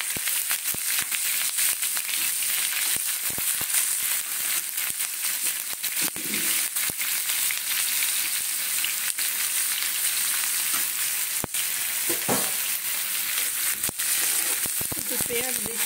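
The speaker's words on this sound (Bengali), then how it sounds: "এখানে যে পেঁয়াজটা রেখেছি আমি এই পেঁয়াজটা দিয়ে দেব" Washed onions frying in a pan, giving a loud, continuous close sizzle and crackle that lasts throughout, with occasional faint stirring clicks and brief background noises.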